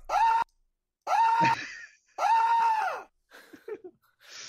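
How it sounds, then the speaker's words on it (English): Several sharp, loud screams as a sound effect, three long sustained shrieks in close succession followed by shorter broken cries, close and alone without talk. "I cannot handle that scream."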